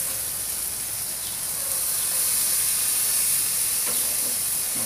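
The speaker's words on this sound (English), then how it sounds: "I put the hamburgers on this end down here. Let them cook slower, so we don't want them to burn, but we do want them to get cooking." Hamburger patties sizzle on a barbecue grill, a loud, continuous hissing fry that holds steady throughout with faint clinks underneath; no talking.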